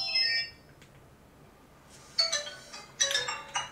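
A brief electronic ringtone phrase plays from a Nokia HMD phone, then falls quiet before a brighter, louder chiming tone returns in quick repeated bursts.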